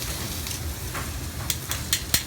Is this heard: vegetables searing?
yes